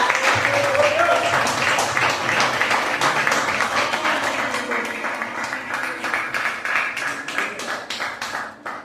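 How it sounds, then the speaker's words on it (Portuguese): A church congregation applauds together during a worship service, a steady wash of many hands clapping at close range that tapers slightly toward the end, with a voice faintly audible beneath it. "E a igreja dá uma linda salva de palmas para Jesus"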